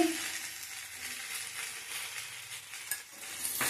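Plantain and potato stir-fried in a pan with salt and turmeric, a fairly quiet continuous sizzle with light scraping and stirring strokes and no talking.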